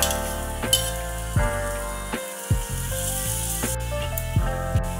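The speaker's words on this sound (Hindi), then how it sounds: "पराठे पे ऑयल लगा लेंगे दूसरी साइड पलट के इस साइड भी ऑयल लगा लेंगे" A beetroot paratha fries with oil in a pan, giving a steady, fairly loud sizzle broken by a few clinks and scrapes of a utensil.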